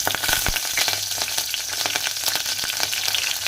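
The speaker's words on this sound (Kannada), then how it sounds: "ಒಂದೆರಡು ಒಣ ಮೆಣಸಿನ್ಕಾಯಿ ಹಾಕೊಳ್ಳೋಣ್ರಿ ಆಮೇಲೆ ಕಡೆ ಕರಿಬೇವಿನ ಸೊಪ್ಪು ಹಾಕೊಳ್ಳನ್ರಿ" Dried chillies and curry leaves temper in hot oil with a loud, close, crackling sizzle full of rapid pops and spits, continuous throughout and without any talk.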